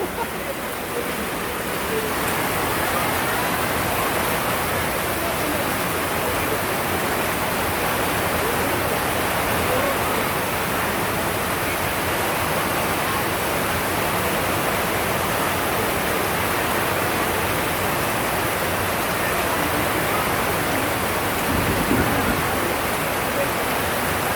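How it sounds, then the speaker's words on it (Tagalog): Heavy rain pours over a flooded river in Montalban, Rizal, making a dense, steady roar of water that fills the whole stretch at a constant loudness. "sa ulan na to na malakas, hindi pa rin umihinto"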